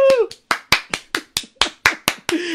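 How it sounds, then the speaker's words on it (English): A single person claps their hands about ten times in a steady, close, loud rhythm, applauding themselves, with a brief vocal sound at the start. "I'm giving myself a round of applause"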